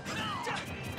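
Up smash attacks landing in a doubles match of Super Smash Bros., a sharp crashing hit with a whooshing swipe, brief and loud, mixed with excited commentary.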